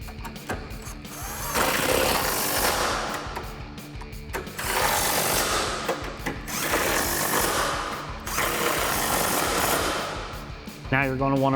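3/8-inch impact gun with a 13 mm socket tightening the strut nuts on a 2005-2014 Mustang coupe, heard as several loud close bursts of rattling hammering separated by short pauses.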